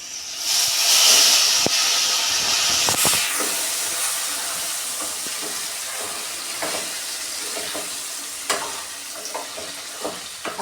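Whole onions drop into hot oil with curry leaves, a loud hissing sizzle that bursts at the start and settles into a steady frying crackle, with a few stirring clinks.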